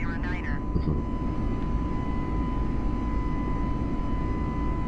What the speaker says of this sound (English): So my takeoff's getting better.